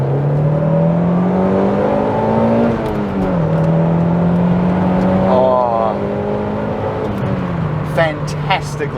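A Toyota MR2 GT-S Turbo mid-engine car revs up and down through the gears, a loud rising and falling whine close by, with speech-like sounds briefly near the end.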